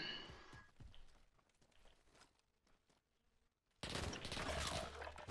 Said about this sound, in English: I forgot this was a 3-round burst.